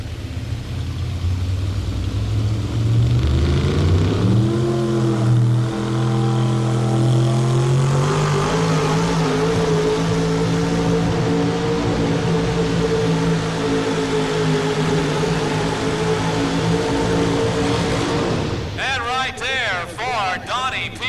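A GMC pulling truck at a tractor pull roars down the track, its loud engine climbing steadily in pitch and holding a sustained, straining drone, with a crowd and announcer's voice underneath and a burst of other noise near the end.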